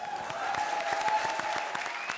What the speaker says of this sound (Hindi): ताली बजाओ इसके लिए यार।